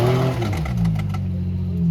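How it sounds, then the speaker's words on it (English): An off-road vehicle with a failing front drive shaft grinds on during a night ride, its engine droning loud and steady while a rapid popping clatter runs through it close by. "As you can hear it just popping"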